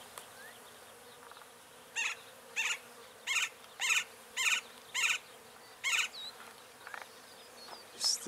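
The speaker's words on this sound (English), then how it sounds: "This tree is just humming with bees." Short buzzing bursts from bees in a tree, about eight in a row, spaced under a second apart, over a quiet outdoor background.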